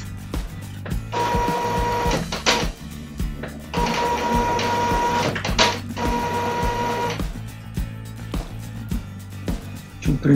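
Epson T50 inkjet printer running, with loud mechanical whirring passes of the print head in repeating cycles, separated by clicks and short pauses, close and alone without talk.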